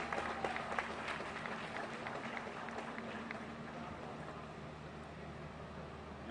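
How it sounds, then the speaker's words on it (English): Crowd at a rally against racism outside the Bell County Courthouse applauding, a steady wash of clapping and cheering that holds evenly throughout from a moderate distance. "Y'all please give my brother another round of applause, please."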